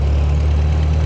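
A 108-year-old Cadillac V8, among the first V8 cars, drones steadily while driving in second gear, a loud low and even engine hum with no break and no voices.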